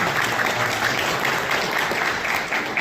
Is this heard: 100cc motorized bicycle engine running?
no